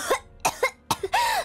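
A sick schoolgirl coughs in several harsh, wet bursts with a liquid, gurgling quality, close and alone, with short pauses between the coughs.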